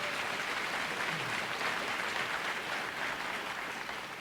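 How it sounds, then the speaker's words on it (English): Audience applause at a League of Women Voters debate between congressional candidates, following opening remarks: a steady, dense wash of many hands clapping throughout, fairly distant and even, with no voices. "applause was appropriate for the opening remarks"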